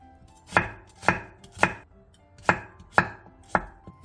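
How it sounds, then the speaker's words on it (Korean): A knife chops through potato, carrot, onion and zucchini on a cutting board with about seven sharp, evenly paced strikes, close and fairly quiet, with no voices. "감자 반개, 당근 반개, 양파 반개, 애호박 3분의 1개를 먹기 좋은 크기로 잘라주세요."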